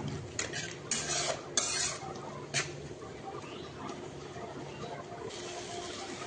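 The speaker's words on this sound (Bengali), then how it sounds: "লবণ দেওয়ার পর ভালো করে একটু কষিয়ে নেব মশলার সাথে।" Spice masala with salt being sautéed in a pan: faint spatula scrapes and clinks cluster early, then a soft, low sizzle carries on quietly.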